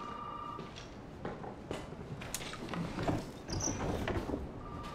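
A telephone rings in Resident Evil 7: Biohazard, a faint steady electronic tone over eerie ambient game noise with scattered clicks and creaks.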